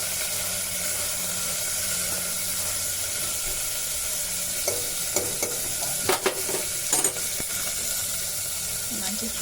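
Mustard seeds, cumin, dried red chillies, garlic and curry leaves frying in hot oil, a steady close sizzle with crackling pops and spatter bursts toward the end, no talk.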